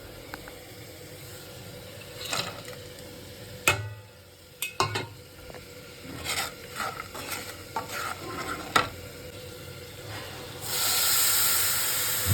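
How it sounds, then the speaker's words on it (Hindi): Vegetables being tempered in hot oil for a vrat-style aloo sabzi, with stirring clatter and intermittent sizzle bursts, ending in a louder steady hiss of frying. "अब मैं सूजी भूनूंगी, हलवा बनाऊंगी और सब्जी का छौंक लगाऊंगी"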